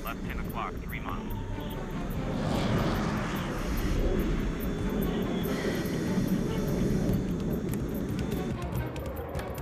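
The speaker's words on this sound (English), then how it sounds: "Here, a squadron of F-15 search enemy territory for potential targets." A squadron of F-15 fighter jets flies over enemy territory with a steady engine roar that swells and fades, while people talk over it.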